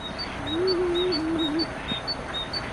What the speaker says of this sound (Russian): Эта большая синица говорит о том, что скоро весна.